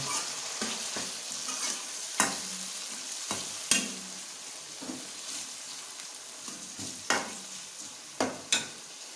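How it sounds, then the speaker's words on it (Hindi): Chopped tomatoes being stirred into a chicken white karahi, with a steady sizzle of frying beneath repeated sharp scrapes and knocks of the spoon against the pan. "अभी ये इसके अंदर डालेंगे और इसको अच्छी तरीके से मिक्स करेंगे।"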